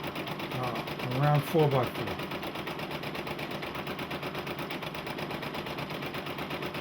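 A Brother PE-770 embroidery machine stitches a design in a 5x7 hoop with a steady, fast mechanical chatter that runs throughout, close and loud, while a person talks over it.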